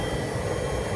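A Webasto diesel heater running with its exhaust working, fitted to a Defender 110 camper, giving a loud continuous broadband roar that stays close and steady throughout.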